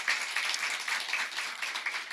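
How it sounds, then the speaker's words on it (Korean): A church congregation claps in praise during a worship service, a moderate, even patter of many hands that carries on steadily without pause and sounds somewhat distant. "우리 하나님께 영광의 박수를 드리겠습니다."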